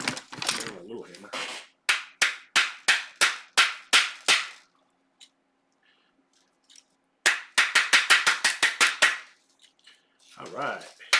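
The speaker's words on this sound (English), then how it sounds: "A little hammer." Sharp, rhythmic metallic taps from a small hammer during a guitar rebuild, two quick runs of about eight to ten strikes each, close and crisp, with brief speech at the edges.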